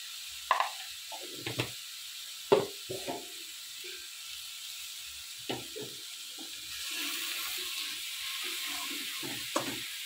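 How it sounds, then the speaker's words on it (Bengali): Carrot halwa being stirred in a pan, a spoon scraping and thumping in irregular bursts close by, with a soft sizzling hiss in between and no voices. "বেশ সুন্দর করে নেড়ে ছেড়ে গাজরের হালুয়াটাকে বানিয়ে নেব।"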